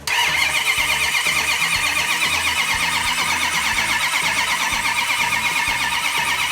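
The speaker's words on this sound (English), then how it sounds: "Let's crank it over for a little bit, hear how it sounds." Plymouth 'Cuda engine cranking over without ignition, the starter turning it in a steady rapid rhythmic churn, loud and close, continuing without catching or firing.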